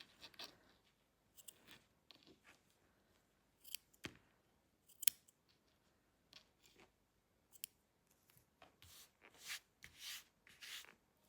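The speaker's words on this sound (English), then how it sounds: "just go around, trimming off all of these ends. Now's a good time to cut them." Scissors snip yarn ends on a crocheted piece, with quiet scattered cuts and rustling handling noise, faint and close, irregular over several seconds with no talk.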